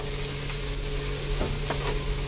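Ginger paste sizzling in a pan of fried onions for a chicken curry, a steady, moderately loud frying hiss with a few faint clicks and no voices.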